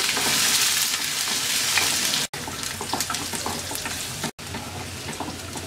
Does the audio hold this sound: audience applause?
no